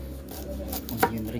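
An onion sliced into rings with a knife, a single crisp chop standing out near the middle of the short stretch, heard faintly against low background hum with no talking.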